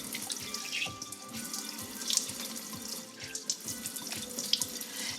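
Tap water runs steadily into a bathroom sink while someone rinses and splashes their face, with irregular splashes and drips over the constant flow, close by and with no voices.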